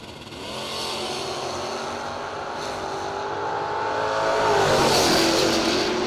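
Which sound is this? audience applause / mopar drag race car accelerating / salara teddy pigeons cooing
mopar drag race car accelerating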